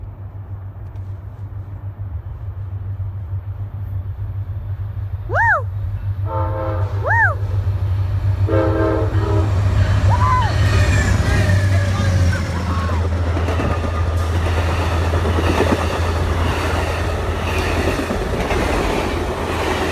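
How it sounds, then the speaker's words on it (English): Amtrak Coast Starlight passenger train passing through Puget Sound, with two horn blasts followed by a loud, sustained rumble and rail clatter up close; an excited voice cheers over it. "Coast Starlight is coming right now."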